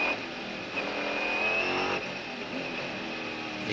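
Mercedes race car at the 1999 24 Hours of Le Mans, a loud sustained engine roar close by with a rising whine as it brakes into a corner, steady throughout with no talk.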